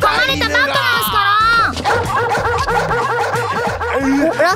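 Several dogs bark and yip at people, loud and close, mixed with voices and snickering laughter in an anime drama.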